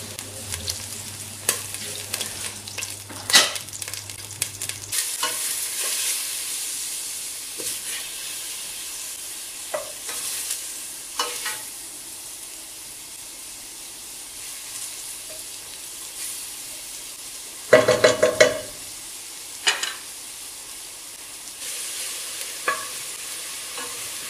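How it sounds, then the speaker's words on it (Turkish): Carrots and onions sizzle and hiss in a pot while a spoon stirs them, steady frying noise with occasional scraping clatters, close and moderately loud, no talking. "Havuçlarımızı biraz döndürdükten sonra soğanlarını, ununu"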